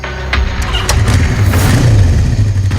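A motorbike engine starts and pulls away at night, a loud close mid-pitched rumble that rises and revs over a few seconds, with a few sharp clicks and knocks at the start.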